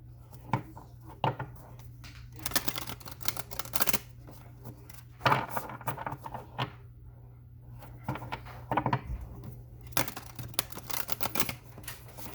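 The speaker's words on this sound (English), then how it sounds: "All right, one more shuffle." Cards are shuffled repeatedly up close, crisp riffling bursts and soft taps recurring in uneven clusters, with no speech.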